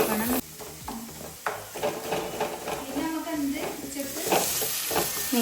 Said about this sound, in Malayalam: വെളിച്ചെണ്ണയിൽ നല്ലോണം ഉള്ളി ബ്രൗൺ കളറാണ്